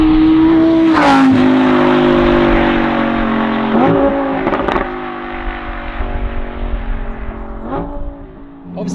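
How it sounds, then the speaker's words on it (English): A Lamborghini Huracan Tecnica supercar engine roars and revs with a deep, raspy exhaust note, exhaust valves open, dipping and surging in pitch, close and continuous throughout. "you can hear the exhaust all the time"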